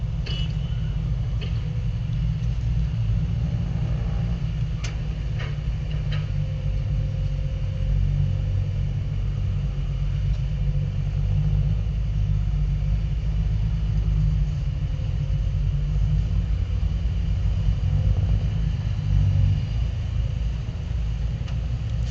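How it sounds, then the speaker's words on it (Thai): A tractor grading a dirt track gives off a constant heavy low engine rumble with a steady drone throughout, loud and close with no pauses. "ก็จะค่อยๆเกรดไปแล้วครับสำหรับเจ้าแท็กเตอร์"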